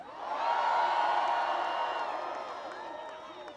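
A rally crowd in Philadelphia cheers and whoops for the Roots, a broad roar from far off that swells quickly, holds, then slowly fades.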